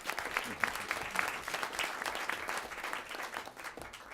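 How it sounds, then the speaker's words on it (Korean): An audience at a Korean public forum claps steadily, a dense patter of hands at moderate distance with faint voices mixed underneath. "이 두 분께 뜨거운 박수를 우선 한번 쳐드리고 시작합니다."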